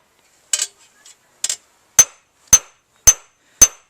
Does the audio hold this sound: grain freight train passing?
no